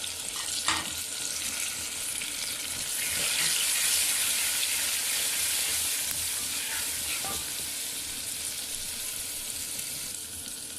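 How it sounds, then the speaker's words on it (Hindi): Spices with onion and butter sizzle and fry steadily in a pan for potato and egg curry, a continuous close crackling hiss with occasional stirring clatters and no talking. "अब हम मसाले को अच्छे से भून लेना है ताकि हमारे प्याज जो है उबाल जाए।"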